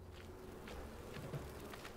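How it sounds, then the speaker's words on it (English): Bees buzzing in the video game Enshrouded, a faint steady insect drone running through the whole short stretch under low background game ambience. "Oh, bees again."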